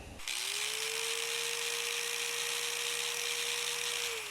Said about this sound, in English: This is the grinder, check it out.